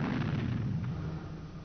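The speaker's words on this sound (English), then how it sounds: "This balloon is filled with a mixture of gas and oxygen." A balloon filled with a mixture of gas and oxygen blows up, giving a heavy, booming blast whose low roar lingers and slowly fades.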